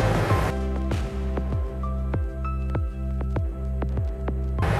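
Flour dough is stirred in a bowl with a soft rhythmic squish and slap that repeats about once every half second, close and steady, with no speech.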